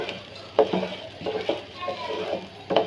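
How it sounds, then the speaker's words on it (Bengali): Polao rice being fried with garam masala in a pot while beef biryani is being made: a continuous sizzle broken by a few scraping stirs of a spoon against the pot, heard up close. "এই পোলাওয়ার চালটা দিয়ে ভালো করে ভেজে নিচ্ছি"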